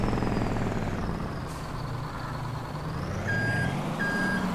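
A truck in the Farming Simulator 22 video game sounds two short electronic reversing beeps near the end, over a steady engine rumble with no voices.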